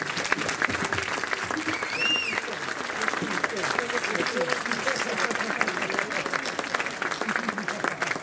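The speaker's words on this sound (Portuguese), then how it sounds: "Uma salva de palmas para eles." Theatre audience applauding on a cold November night, dense steady clapping from many hands filling the room, with a voice and a brief whistle over it.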